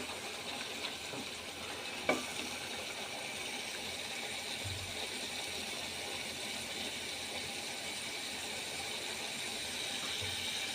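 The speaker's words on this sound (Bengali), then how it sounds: "তাই একটু মাছ ভাজা করার জন্য মশলা কষাইতেছি।" Spices fry in oil in preparation for cooking fish, giving a faint, even sizzling hiss that holds steady throughout with a single small clink near the start.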